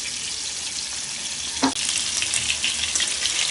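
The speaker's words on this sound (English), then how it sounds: "Meatballs are cooking lovely" Meatballs fry in a pan with a steady crackling sizzle. There is one brief clatter partway through, then the sizzling carries on close and even.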